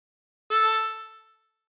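A single harmonica draw note on hole six from Bella Ciao sounds once. It starts cleanly, holds for under a second and fades out, alone and close.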